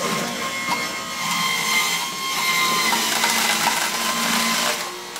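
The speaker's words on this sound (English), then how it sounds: "put it in the top of the Jack LaLanne juicer" A Jack LaLanne juicer grinds zucchini with a loud, continuous motorized whir and rasping pulp noise, close up, slightly swelling and easing over several seconds, with no speech.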